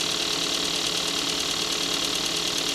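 A small Hyundai Kona engine idles steadily in a salvage yard, a close, even mechanical hum with a fine rapid ticking and no voices over it.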